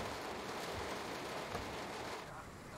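Steady rain drums over the interior of a BR 422 S-Bahn electric train running near Duisburg and Essen, a dense continuous hiss that holds at an even level with no talk.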